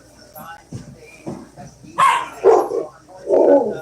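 A deep, booming dog barks loudly several times in quick bursts, following quieter talk and movement sounds in a room.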